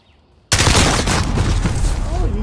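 Sudden loud burst of gunfire, shotgun blasts in a game firefight, ringing on with dense crackling echoes after a quiet opening.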